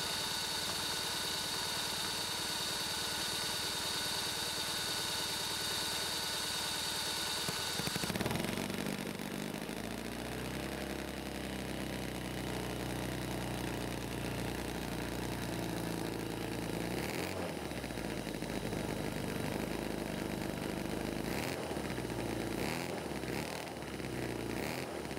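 A mini Cison V-twin engine, a small Harley Davidson-style model, runs steadily at close range, its idle hum changing pitch partway through and continuing with a few brief knocks and clicks near the end.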